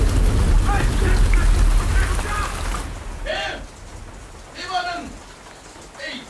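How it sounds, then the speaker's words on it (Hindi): Rain falling outdoors at a coffee plantation, a steady hiss of drops that is heavy at first and then thins to a softer patter while people talk over it. "अरे बाहर आओ, बारिश हो रही है"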